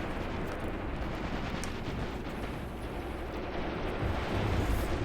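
Continuous distant rumble of artillery and gunfire across a World War II battlefield in the strategy game Graviteam Tactics: Mius Front, a dense, steady roar that swells slightly toward the end, with no talk.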